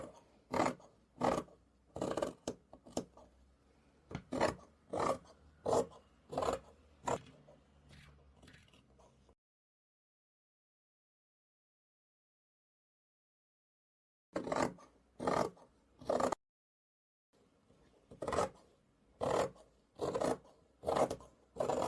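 Scissors cutting fabric for a cloud-shaped cushion, a close series of crisp rhythmic snips in bursts, with a silent pause in the middle before the cutting resumes.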